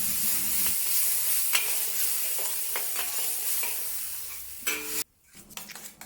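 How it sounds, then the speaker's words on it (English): Garlic and chili stir-fried in oil over low to medium heat, a steady close sizzle with scraping spatula strokes and light clinks against the pan, then a brief cut to quieter sizzling. "start to stir fry until aromatic"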